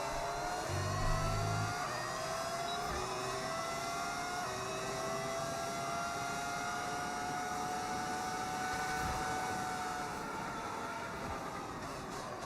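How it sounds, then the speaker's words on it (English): Modded V10 Formula 1 engine in the racing game F1 26, a steady high-pitched whine that rises and shifts through gears, with a brief low thump near the start; loud and continuous, no talk. "I have a mod that makes it sound like a V10."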